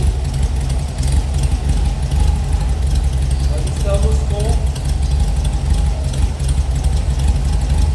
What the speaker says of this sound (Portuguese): 1700 RPM o motor. E ele já está funcionando aí, ó.